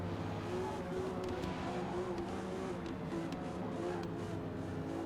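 A Ferrari Roma driven in Forza Motorsport gives a steady mid-loud engine drone with a faint changing tone, heard alone without talk.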